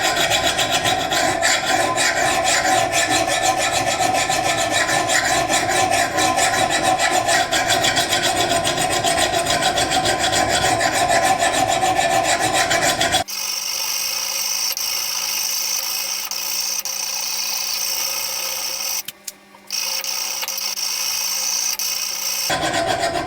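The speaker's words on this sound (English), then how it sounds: "So you can sharpen an axe head with a file" A hand file rasps along the edge of an axe head in fast, even strokes, loud and close for about thirteen seconds. After that comes a quieter, hollow stretch with a brief dropout.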